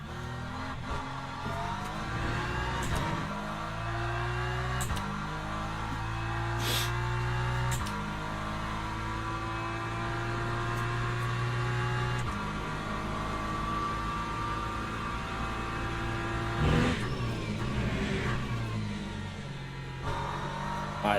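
Race car in Le Mans Ultimate cruising around Paul Ricard on cold tyres, its engine droning steadily with gear changes shifting the pitch up and down over a long stretch, while a voice talks now and then.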